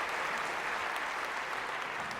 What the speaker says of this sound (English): I would like to ask you for a round of applause to those elected